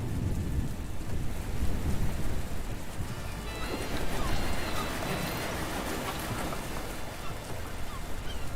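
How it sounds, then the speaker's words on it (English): Steady rain with rolling thunder fills a Patron city-builder game scene, a continuous dense hiss with low rumbles swelling and fading throughout, no voices. "Wow, immediate rain."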